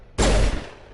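A single loud gunshot blast from the video game Mass Effect 1 cuts in sharply and fades out within about half a second.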